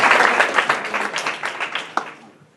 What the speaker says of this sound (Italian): sì, quindi un applauso